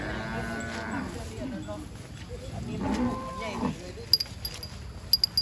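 Cattle moo at a rural livestock market where cows and buffalo are traded, drawn-out lowing calls standing out early and again midway against a busy background with sharp clicks near the end.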